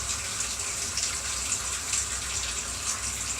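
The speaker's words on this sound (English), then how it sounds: "I'd rather put hot water into it than really cold water." Hot water gushes steadily into a paella pan of chicken and chorizo, a close, continuous splashing pour with no pauses and no talking.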